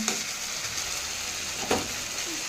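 Bombay duck fish hits hot oil and fried spice paste in a pan, giving a steady, close, hissing sizzle with a couple of soft stirring knocks and no talking.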